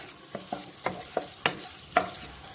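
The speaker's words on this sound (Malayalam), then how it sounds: "ലോ ഫ്ലെയിമിലാണ് നമ്മൾ ഫ്രൈ ചെയ്തെടുക്കുന്നത്" Spicy egg fry with curry leaves cooking on low flame: a soft background sizzle broken by six sharp stirring clacks of a spoon against the pan at an uneven pace, close and moderately loud, with no voices.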